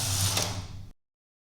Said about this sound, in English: Now I can take my carriage from hold and just knit as many rows as I want.